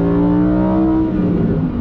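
A Lamborghini Huracan Sterrato accelerating hard, its engine note droning steadily and strongly from inside the cabin for under two seconds, with no talking.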